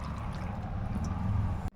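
Water is poured into a pan of brinjal curry (baigan bharta) seasoned with salt, a steady liquid pour rushing close and loud for under two seconds before stopping abruptly.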